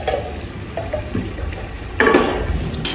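Water poured into a large pot of rice being readied for a village-style matar pulao, a steady rushing splash that swells louder and brighter partway through, with no talking.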